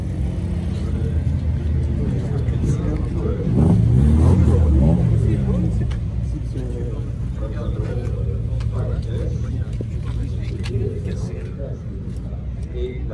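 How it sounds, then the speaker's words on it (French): A vintage Aston Martin drives past at a car event, its engine swelling briefly and fading, heard under ongoing French talk and crowd chatter. "Et la magnifique Aston Martin, la plus ancienne de la scène"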